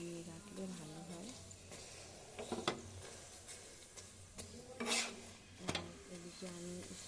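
Pre-made parathas torn apart by hand, giving dry rustling rips and soft rubbing close by, with a few sharper tearing bursts against a steady room background.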